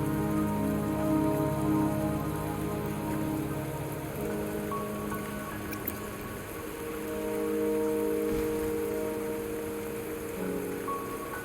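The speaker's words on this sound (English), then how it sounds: "Don't worry, the rain won't last much longer." Steady rain pours in the video game Wuthering Waves, a dense continuous patter on surfaces with faint musical tones underneath and no talking.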